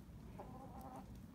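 Rooster clucking and giving a short crowing call on a farm, a brief harmonic cry over steady low background noise, moderately close but fairly quiet.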